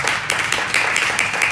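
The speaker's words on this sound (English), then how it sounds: "Let's applaud our candidates" Audience applauding candidates at a pastors and wives brunch, a steady wash of many hands clapping throughout, fairly close and full, with no voices above it.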